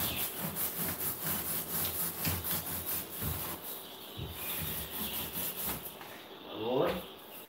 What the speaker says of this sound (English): Roller.